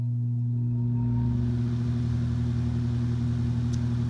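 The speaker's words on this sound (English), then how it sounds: "So right now we're going to do the mandatory fan startup." A mid-1950s Ilg Model 83 electric fan with shutters starts up, a steady low motor hum with a tonal drone rising slightly, then settling into a constant, quiet whir at 1500 RPM.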